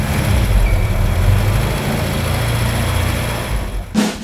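A 1968 GM car with a 1500cc four-cylinder engine runs at a steady idle, a close, even rumble with a short louder burst near the end.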